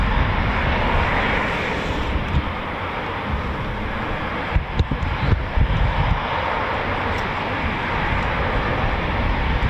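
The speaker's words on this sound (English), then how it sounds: "There's our tanker from RAF Bryce Norton." An RAF tanker aircraft from RAF Brize Norton flies over RAF Coningsby, its engines a loud, steady broadband roar that stays strong throughout, with a brief rumbling flutter midway.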